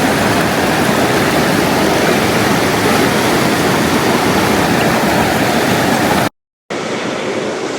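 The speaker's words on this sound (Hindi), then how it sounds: "पहाड़ों के दामन से पानी गुजर रहा है" A river rushes past the mountainsides of Siran Valley near Mansehra, Pakistan, a loud, steady broadband roar of flowing water, close and constant, cut by a brief gap of silence before it resumes.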